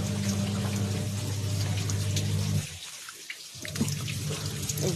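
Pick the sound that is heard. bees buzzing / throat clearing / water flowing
water flowing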